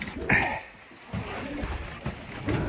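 Pigeons coo softly nearby in short, low, throaty bursts inside a pigeon loft in deep winter cold, a few calls spread over a couple of seconds in an enclosed space.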